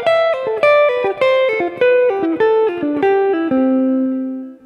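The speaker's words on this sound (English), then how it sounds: "If we were to play our diatonic triads in a single note fashion, in a descending pattern, they might sound something like this." Guitar picks diatonic triads as single notes in a descending run, a steady stream of clear plucked notes stepping downward before the last note rings out and fades.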